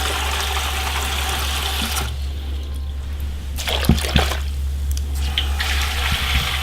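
At a donkey shelter, animal feed is mixed with water, with steady sloshing and pouring plus a few sharper splashes over a constant low hum.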